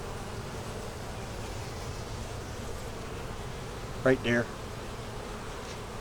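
Honey bees buzz in a steady, dense drone while a double deep eight-frame hive is opened for inspection, with a brief close voice speaking near the end.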